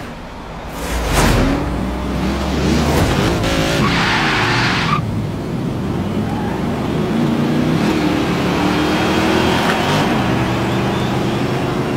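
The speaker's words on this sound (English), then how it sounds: "So these are all Bel Airs that are going to be racing" Several '57 Chevy Bel Air cars racing in a video game, engines droning continuously with loud tire skids and squeals rising and falling close by.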